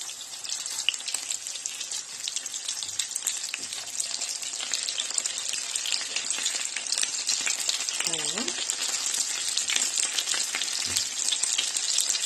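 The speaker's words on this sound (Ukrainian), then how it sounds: "накриємо кришечкою і будемо чекати, поки вони посмажаться" Meat cutlets frying under a lid in a pan give a dense, continuous hissing sizzle with fine crackles throughout, close and even in level, with a brief low clatter partway through.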